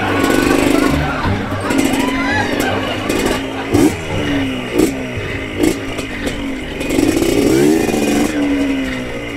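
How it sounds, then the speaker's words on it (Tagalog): A motorcycle engine labouring and revving as it climbs a steep uphill shortcut road, loud and close with clattering bumps, while the rider talks over it. "Talagang pinahirapan akong motor to ah."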